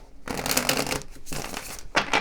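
A deck of tarot cards is shuffled up close, giving three dense, papery riffling bursts with brief pauses between them and no talking.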